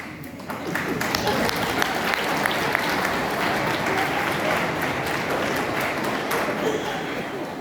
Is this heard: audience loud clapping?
yes